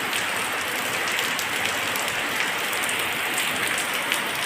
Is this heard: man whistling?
no